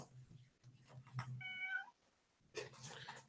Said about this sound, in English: Says your cat is quite interrupting.